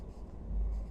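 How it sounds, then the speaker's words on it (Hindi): A pencil writing on paper during a chemistry lesson, a soft continuous scratching stroke lasting about a second, close and fairly quiet. "मैं पेंसिल से अभी यहाँ पे लिख दे रहा हूँ"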